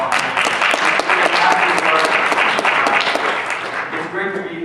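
Sustained audience applause at a talk introduction, dense steady clapping from a crowd with a few scattered louder claps, fading slightly near the end.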